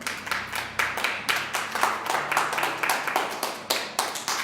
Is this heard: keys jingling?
no